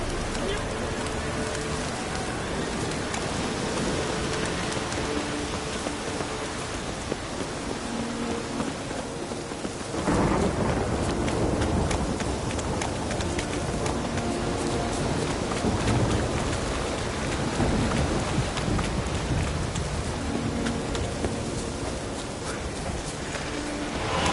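A thunderstorm in The Witcher 3 pours dense, loud, steady rain with low rumbling throughout, surging around the midpoint and continuing unbroken, with voices faintly under it.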